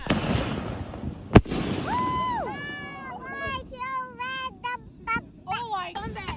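Fourth of July backyard fireworks: a sharp loud bang followed by whistling rising and falling tones and crackling bursts, with children and people talking and shouting throughout.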